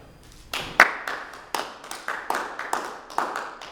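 A small audience gives a brief round of applause: sparse, distinct claps in an uneven series of about a dozen sharp hits, close and fairly loud, with no talk over them.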